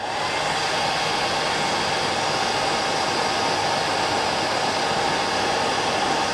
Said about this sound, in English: I always like to tighten the deer hair up with a blow dryer, hair dryer.